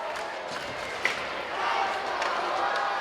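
A hockey arena crowd at an Erie Otters home game against the Sarnia Sting cheers and roars as a steady wash of noise, with a commentator talking over it.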